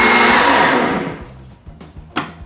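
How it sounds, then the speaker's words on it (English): Kitchen blender running on soaked soybeans and cold water, loud and steady at first, then winding down to quieter bumps and knocks as it stops. "All right, let's turn this on, blend them up till they're smooth."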